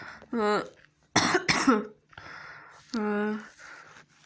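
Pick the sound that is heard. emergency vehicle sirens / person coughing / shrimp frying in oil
person coughing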